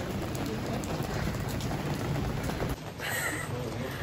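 Steady rain pours outdoors during a rock concert in Vienna, a dense, continuous hiss of drops that briefly thins for a moment near the end before returning.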